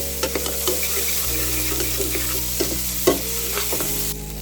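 Chili peppers fry in a hot pan with a steady close sizzle, while a utensil scrapes and stirs in irregular clicks throughout.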